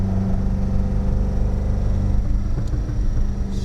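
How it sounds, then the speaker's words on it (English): A 1976 Jensen GT with a Lotus twin-cam engine and straight-through exhaust drives along, giving a steady, loud engine rumble with a low droning tone close by and no talk. "Straight through exhaust."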